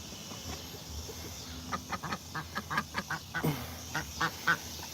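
Ducks kept alongside chickens on a small farm, quacking in a rapid series of short, nasal calls close by, bunching into a busy run of quacks over a faint background hum.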